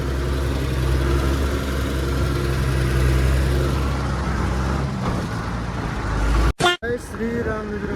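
A Honda Activa scooter engine runs steadily with a close, loud mid-pitched hum and rumble, then abruptly cuts out near the end, followed by brief handling noises.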